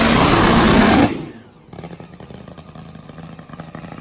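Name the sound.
top fuel nitro drag motorcycle engine running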